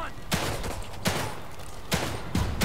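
Bursts of rapid gunfire in the video game The Evil Within 2, loud and close, with several volleys and short pauses between them.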